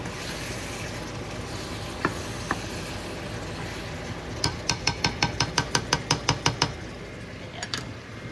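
Leftover dish sizzles in a pan while being stirred, a soft steady frying hiss broken by a couple of clinks, then a quick run of about a dozen rhythmic metallic taps of the utensil against the pan.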